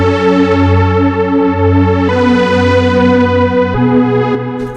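Sustained techno synth pad pattern with filter key tracking, chorus, reverb and drum bus processing, loud, rich harmonic chords shifting at a few note changes, with no voice over it.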